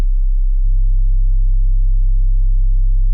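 A steady, loud sine-wave sub-bass drone synthesized in Serum 2, holding one deep low pitch throughout with a slight shift in tone just after the start.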